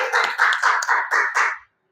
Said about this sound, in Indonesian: Kasih tepuk tangan dulu buat Ariel